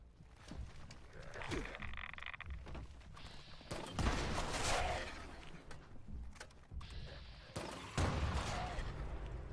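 Grenade launcher fire in Fallout 76, a run of booming game shots and blasts with a few louder bursts near the middle and end, mixed with other game sounds and some speech.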